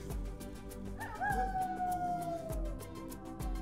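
A werewolf howl sound effect: a single long, wavering howl rises and slides slowly downward for about three seconds, set over a steady rhythmic backing with regular low thumps.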